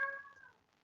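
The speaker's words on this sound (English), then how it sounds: "that's my cat in the background." A single meow from a female house cat somewhere in the room, fairly faint and sliding downward in pitch before trailing off, with no talk over it.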